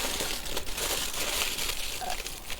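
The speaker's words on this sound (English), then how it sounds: "he's going to wrap that up in some foil" Aluminium foil, doubled into two sheets, crinkles and crumples steadily while being wrapped around a camp dessert, the dry papery rustle continuous and close with no talking.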